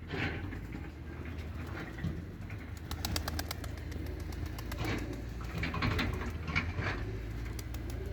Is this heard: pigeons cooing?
yes